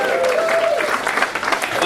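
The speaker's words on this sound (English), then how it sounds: "can I have a big cheer for Barry for writing that joke" A comedy club audience cheers and applauds, producing a dense, continuous wash of clapping and whoops that fills the room, with a voice briefly sounding over it.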